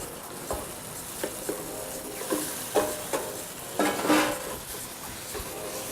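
Diced beef and onions sear in a pot with a steady soft sizzle, broken by several sharp scrapes and knocks of a utensil stirring against the metal, close and moderately quiet.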